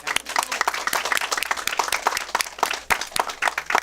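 An audience applauds a panel at a seminar on protecting older adults from financial scams, with brisk, dense clapping that holds strong and close for several seconds.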